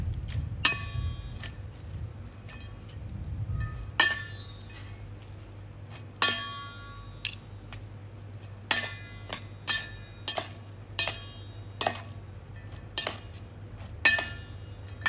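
Noodles are tossed and mixed with sugar, seasoning powder and fish sauce, giving repeated sharp clinks of utensils against a bowl or pan at an irregular pace. A low steady hum sits underneath, and a louder scraping burst comes near the start.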